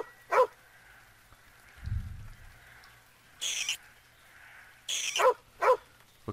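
A dog in the horror game Nightmare from the Deep 3: Davy Jones gives several short barks, one near the start and a quick pair near the end, mid-distance over a quiet hum, with a couple of sharp hissing bursts in between.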